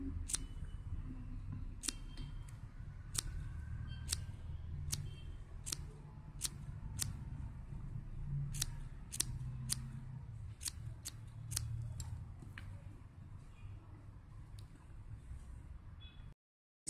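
Scissors snip through knitted yarn while a small Santa dress for a Kanha Ji idol is trimmed into shape, giving a steady run of sharp, close clicks, some singly and some in quick clusters, over a faint low hum.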